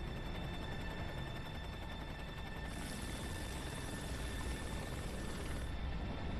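A steady helicopter drone hums throughout, a constant distant whirring rotor noise with a continuous background roar, the helicopter flying near a massive wildfire.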